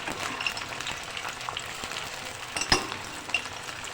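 Garlic ginger paste frying with sliced tomatoes in a pot for aloo biryani, giving a steady close sizzle with a few soft clinks and stirring knocks, no voices.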